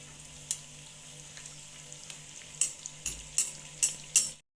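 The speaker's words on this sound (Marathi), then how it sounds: "भटुऱ्याला छान तळून घ्यायचे असं" Bhatura frying in hot oil for chole bhature, a low steady sizzle broken by sharp metallic scrapes and clinks of a utensil in the pan that grow louder toward the end.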